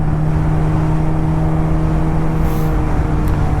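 A 2001 Suzuki Hayabusa GSX1300R motorcycle pulls hard in second gear, its engine a loud, steady, close drone with wind rush.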